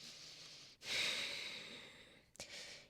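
Deep breaths come during a rounded yoga plank, with a long, close inhale or exhale followed by a short sharp breath and the start of another, all without talk.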